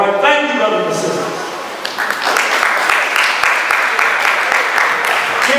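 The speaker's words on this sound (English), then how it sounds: "Come on, put your hands together." Applause from a convention audience breaks out partway through, a busy spread of clapping that follows a voice speaking over a loudspeaker and then carries on at moderate loudness as the crowd keeps clapping.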